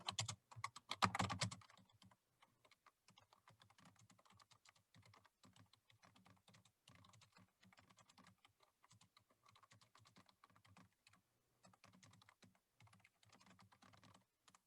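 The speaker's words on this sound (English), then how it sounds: "I type that in." Typing on a computer keyboard, a long run of faint, close key clicks at an uneven pace after a brief louder clatter at the start, with no voice.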